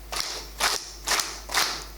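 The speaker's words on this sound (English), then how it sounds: "So now we're going to clap." Four sharp group claps in slow, even rhythm from an audience at a Nerd Nite talk, each a short loud burst separated by near-silence.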